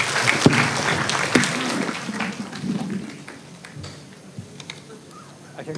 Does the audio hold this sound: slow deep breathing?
no